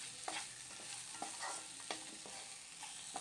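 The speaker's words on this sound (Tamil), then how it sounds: "இதையும் சேர்த்து நல்லா கிளறி விட்டுக்கலாம்." Curry leaves being stirred into chilli chapathi in a hot pan, soft sizzling under a few light spatula scrapes, quiet and close.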